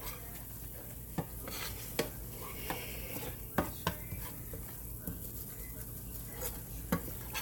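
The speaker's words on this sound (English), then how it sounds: "when you're doing a gravy or a roux, you have to continually stir so nothing will burn or so nothing will stick" Flour-thickened gravy roux being stirred continually in a pan over high heat: low sizzling bubbling under repeated scrapes and clicks of a utensil against the pan, close up with no voices.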